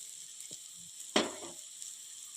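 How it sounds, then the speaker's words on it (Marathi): Sliced bitter gourd fries in hot oil in a pan, a faint steady sizzle close by, broken by a sharper stirring scrape partway through. "कारले आपल्याला एखाद मिनिटभर तेलात चांगल्या परतून घ्यायचे आहेत"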